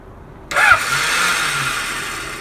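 A long-stored 1976 Kawasaki KZ900A motorcycle with starter clutch issues fires up close by: brief quiet, then a sudden catch into a loud, steady running engine note with no talking.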